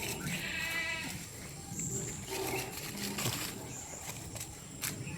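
Malabari goats for sale bleat repeatedly at close range, several calls overlapping across the stretch against a busy farmyard background.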